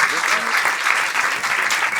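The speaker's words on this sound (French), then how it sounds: "j'aimerais qu'on fasse un tonnerre d'applaudissements aux 2 juges invités que j'avais." Applause from a comedy club audience for two guest judges at a Gong Show special in Paris, a steady dense wash of clapping that fills the whole short stretch with no pause.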